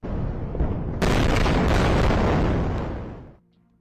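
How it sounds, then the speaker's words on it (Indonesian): A heavy, rumbling blast in Gaza rolls on for a few seconds and then fades quickly, a loud, sustained boom of a distant explosion. "Suara ledakan masih terdengar di kejauhan, memecah kesunyian kota yang dulu ramai."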